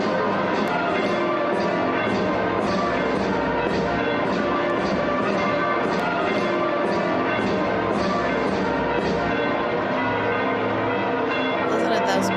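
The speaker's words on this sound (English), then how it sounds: "Listen to those bells." Church bells pealing continuously at the election of a new pope, a dense overlapping ringing that stays loud and steady throughout.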